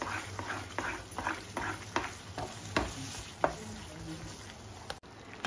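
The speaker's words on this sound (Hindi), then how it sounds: "और ये थोड़ा सा धनिया, ये भी हम इसमें डालेंगे और इसको फिर से 2 मिनट तक भूनेंगे" Paneer bhurji with coriander being stir-fried in a pan, a spoon scraping and stirring in a steady rhythm of soft scrapes and clicks over a faint sizzle, close by.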